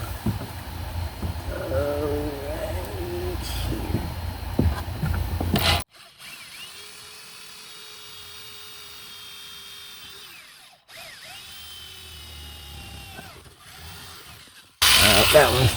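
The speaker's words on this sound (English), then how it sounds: "I'm gonna go ahead and drill these two and then pop them on there." Power drill bores holes into a wooden car audio door panel, a steady whining run in the first half followed by quieter, lighter drilling passes, with a voice speaking briefly at the start.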